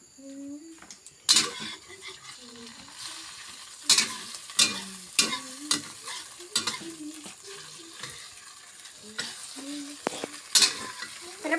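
Food frying in a pan as mom cooks, with a steady sizzle broken by repeated loud scrapes and clatters of stirring, while voices talk intermittently over it.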